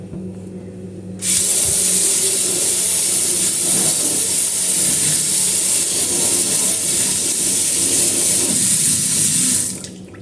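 Mangoes rinsed under a running kitchen tap, a steady loud hiss of water pouring for about eight seconds before cutting off, with no talking.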